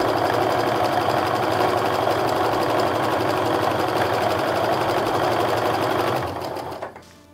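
A sewing machine runs continuously as two fabric pieces are sewn right sides together, a loud, even rattling whir that holds steady for six seconds before winding down and stopping.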